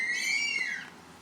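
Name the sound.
parrot bird noises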